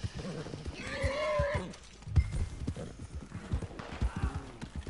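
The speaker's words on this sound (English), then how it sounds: "My horse is very hungry, I have to feed it." Horse hooves clop and a horse whinnies in Red Dead Online, a loud neigh early followed by irregular hoofbeats and thuds in a busy game scene, with brief voice sounds mixed in.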